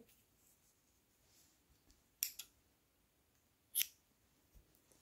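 Scissors snip crochet thread close up, with two quick cuts followed by a third single snip, crisp against near silence.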